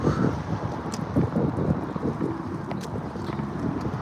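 Gusty wind buffets the microphone in loud, uneven bursts, with faint rattling and footsteps in the background.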